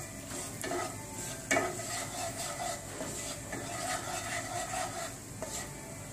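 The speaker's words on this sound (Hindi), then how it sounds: "मैंने कढ़ाई में 2 टेबलस्पून ऑलिव ऑयल लिया है। अब मैं इसमें 1/2 चम्मच अजवाइन ऐड करूंगी।" Half a teaspoon of carom seeds sizzles in two tablespoons of hot olive oil in a kadai, a steady crackling hiss with occasional sharper pops and faint stirring scrapes throughout.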